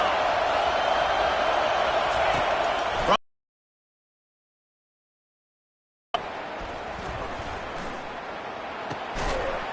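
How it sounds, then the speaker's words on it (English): A football stadium crowd roars loudly on third down as the home defense lines up, a dense sustained wall of noise that cuts out for a few seconds and then resumes just as strong. "3rd down, and this crowd will blow out a vocal cord to help this defense."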